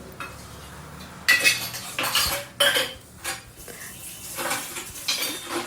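Steel cutlery, plates and pots clink and clatter as a home kitchen in an Indian village is tidied after cooking, with irregular loud clanks and scraping handling sounds close by and no talking.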